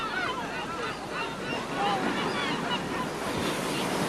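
Sea waves washing onto a beach on Socotra Island, Yemen: a continuous loud roar of surf with no pauses, close by, and no voices.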